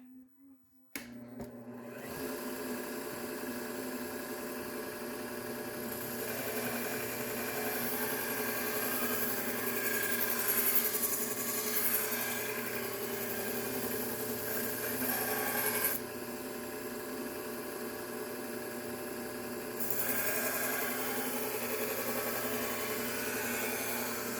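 A knife is sharpened on a belt grinder fitted with a Cubitron A30 600 grit belt, giving a steady, moderately quiet motor whir with a continuous grinding hiss that swells in stretches.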